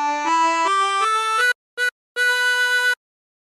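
A harmonica plays a short phrase of a song as a run of clear, reedy single notes, moving up and down in steps. A brief note and a longer held note follow after short pauses, with no talk.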